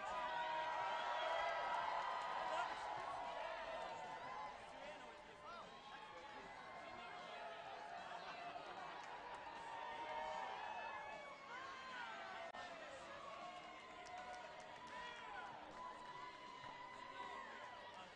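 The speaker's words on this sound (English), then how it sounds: "Cheer extra loud for them" Roller derby crowd cheering and chattering in a venue, a broad, fairly distant wash of voices with scattered shouts and whoops, with talk in the foreground over it.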